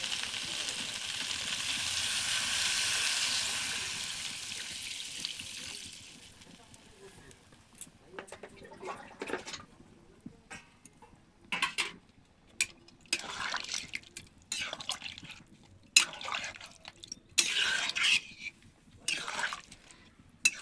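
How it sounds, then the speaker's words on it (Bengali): Water pours over mutton pieces in a pot for boiling, a broad steady hiss and splash for several seconds, then scattered clinks and short splashes of cooking as it settles. "তো এরপর মাংসর উপর জল ঢেলে দিচ্ছি সেদ্ধ হওয়ার জন্য।"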